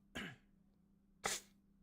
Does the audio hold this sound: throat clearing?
yes